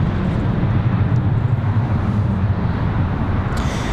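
Copa Airlines jet at Raleigh-Durham airport, a loud, constant low engine rumble blended with wind, steady throughout without a break.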